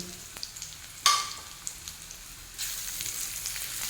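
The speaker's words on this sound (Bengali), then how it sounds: "কাঁচা লঙ্কা পেঁয়াজের কাঁচা ভাব যাওয়া পর্যন্ত একটু ভেজে নেব।" Onions and green chillies fry in hot oil with cardamom, cloves and cinnamon, giving a soft steady sizzle with a few stirring clicks and a sharp burst of crackling when something is added.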